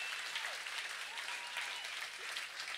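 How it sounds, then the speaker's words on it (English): An audience at a concert claps in sustained applause, a dense even patter of many hands from a crowd at moderate distance, with no talking. "So I want a big round of applause."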